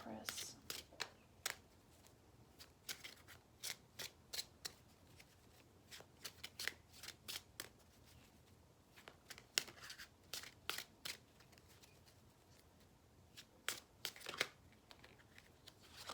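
Tarot cards are shuffled by hand in repeated quick riffling bursts of crisp papery slaps, close and fairly quiet, with short pauses between the rounds.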